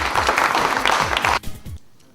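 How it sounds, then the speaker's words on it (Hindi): An audience at a book launch at India International Center claps loudly and evenly for over a second, then the applause breaks off abruptly and fades into quiet. "तालियों की गड़गड़ाहट के साथ उनका स्वागत।"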